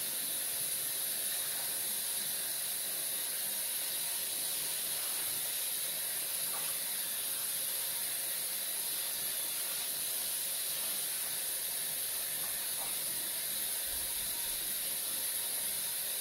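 Running water rinsing a wig, a steady, unbroken broadband hiss like a tap or shower spray, close and constant throughout with faint small clicks.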